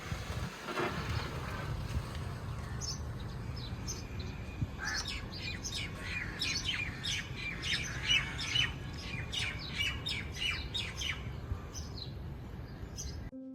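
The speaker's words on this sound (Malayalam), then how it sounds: "പുറത്തോട്ട് ഇറങ്ങുമ്പോൾ തന്നെ നല്ല കിളികളുടെ ഒച്ചയാണ് കേട്ടോ" Morning birdsong outside a resort in Sharjah: several birds squawk and chirp in quick bursts, fairly near, over a steady low background hum with no talking.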